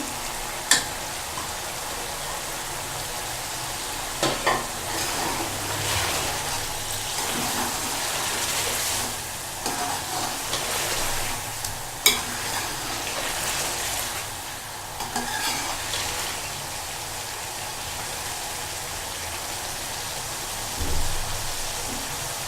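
Julienned ginger frying in a pan of chicken korma, a steady rain-like sizzle running throughout with occasional stirring scrapes and a few sharper clicks, no talking.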